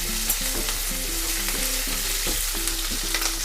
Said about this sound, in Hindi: बहुत ज़्यादा हम अनियन को नहीं भूनेंगे, पिंक होने तक, बस हल्का पिंक होने तक इसको भूनेंगे।